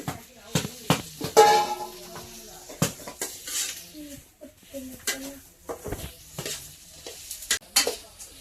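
Spices roasting for a homemade masala in a pan, with stirring scrapes and soft sizzling, plus a few sharp clinks of a utensil against the pan, while someone talks over it.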